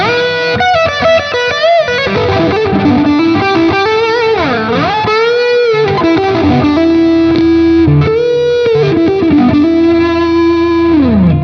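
A distorted electric guitar, a PRS CE 24 on its rear pickup setting, plays a melodic line with bends and sustained notes, loud and alone, with effects adding a shimmering edge.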